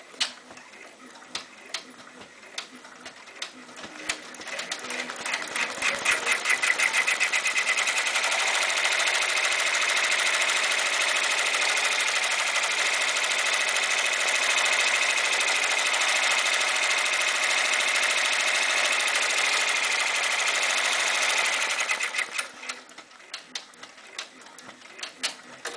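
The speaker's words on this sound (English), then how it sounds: "And now the tack down stitch will stitch." An embroidery machine stitches a tack-down outline on an appliqué cap patch, a steady, loud mechanical whir with a rapid ticking rhythm that runs unbroken for about fifteen seconds before stopping.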